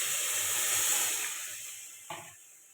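Water added to frying spice paste for a khoyra fish curry sets off a broad, close steam hiss that slowly fades, with a brief louder burst near the end.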